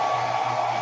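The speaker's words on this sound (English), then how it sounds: "Make sure to hit my blow dryer down here and the glitter doesn't go." A blow dryer runs steadily up close, a continuous whirring hum with a steady airy rush, used to dry glitter.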